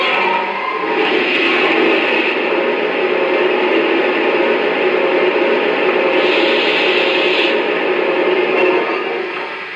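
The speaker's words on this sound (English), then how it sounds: "Here's the sound of water being added to the tender." Simulated water filling the tender of a Lionel 115th Anniversary Berkshire 2-8-4 model steam locomotive makes a steady, close, gushing rush that holds for several seconds before tapering off.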